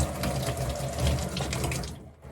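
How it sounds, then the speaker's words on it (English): Tap water runs steadily into a sink while combs are rinsed clean of soap, a loud continuous splashing rush that cuts off abruptly near the end. "you're going to turn your water on again and clean it off until there's no more soap residue"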